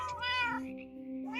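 A cartoon cat in a cozy witch-and-wizard life-sim video game lets out two clear, close meows, a drawn-out rising-falling call followed by a shorter one after a brief pause.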